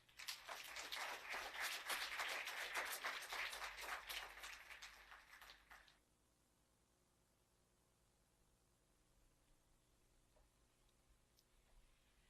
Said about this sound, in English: Please may I ask us to put a warm round of applause for Madam Shameela Soobramoney.